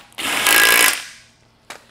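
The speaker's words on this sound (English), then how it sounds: "And then with your 14mm socket, go ahead and get it all the way up in." A bolt is driven in with a 14mm socket wrench while a glute and ham developer exercise machine is being assembled, giving one loud, close burst of about a second followed by a short sharp knock.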